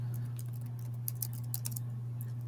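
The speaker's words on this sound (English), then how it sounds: "let's type up how that's going to look on the calculator" Calculator keypad pressed while working a binomial distribution problem, a few soft, quick, light taps over a constant low electrical hum, with no talk.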